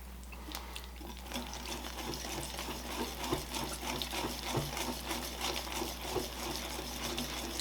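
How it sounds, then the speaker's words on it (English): Wet batter being whisked into dry ingredients for a devil's food chocolate cake, a steady rhythmic scraping and sloshing of the whisk against the bowl, close and continuous throughout. "we're going to whisk this into our dry ingredients."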